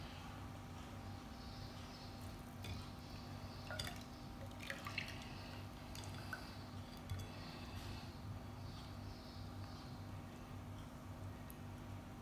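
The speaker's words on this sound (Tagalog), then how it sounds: "Salain lang natin siya." Leche flan egg mixture strained through a sieve, the liquid trickling and dripping steadily into a bowl with small scattered splashes over a low steady hum, no talk.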